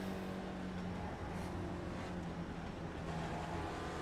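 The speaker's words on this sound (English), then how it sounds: "Hear him fucking stabbing that throttle behind me?" In a racing video game, a car engine drones and revs behind, the driver stabbing the throttle in short surges under a steady low engine hum, fairly quiet and without talk.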